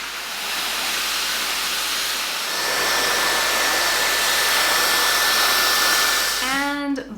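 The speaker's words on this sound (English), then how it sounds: "you are actually blow drying your own hair" A Laifen hair dryer blows hair dry with a steady, loud airy whoosh that holds level for several seconds before clicking off at the end.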